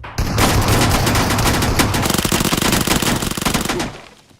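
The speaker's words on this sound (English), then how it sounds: "that's a lot of bullets coming in" Rapid automatic gunfire in PUBG Mobile, a loud, continuous stream of sharp shots with overlapping bursts that fills the whole moment before tapering off at the end.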